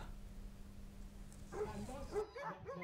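Dogs bark and yip at a canicross race at Can Bonvilà in Terrassa, with excited barks and whimpers close by after a quieter start, over outdoor crowd noise and talk.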